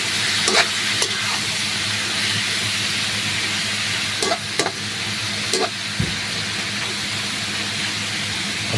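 Chicken intestines (isaw) stirred in a cooking pan give a steady loud sizzle with scattered clinks and scrapes of a utensil throughout.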